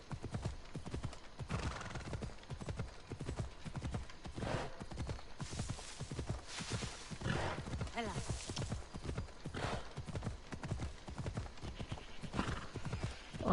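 Rapid, rhythmic hoofbeats of a galloping horse in Assassin's Creed Odyssey pound steadily and evenly throughout, close and continuous.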